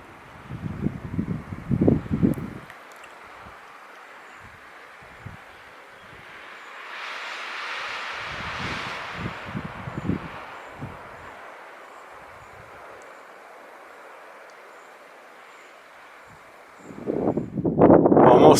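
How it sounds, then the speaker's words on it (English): Wind gusting through a rocky chute near a saddle on a mountain pass in the Bob Marshall Wilderness, a steady soft rush that swells in the middle, with close buffeting bursts against the microphone at the start and end. "Getting kind of breezy as I get up into that chute of a pass."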